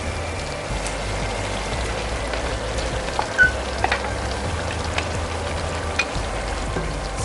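Chicken karahi frying in a pan as chopped tomatoes go in, a steady, close sizzle with scattered small pops and crackles throughout.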